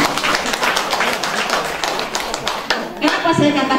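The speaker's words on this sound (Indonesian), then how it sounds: "Tepuk tangan dulu." At a village campaign rally for a local council candidate, a crowd claps in a quick burst of sharp, uneven hand claps, close and lively, with a voice speaking near the end.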